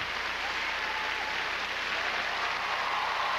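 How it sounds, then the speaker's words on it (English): An audience at an ice skating show applauds warmly, a steady dense wash of clapping that holds evenly throughout at a moderate distance. "a warm ovation from this audience"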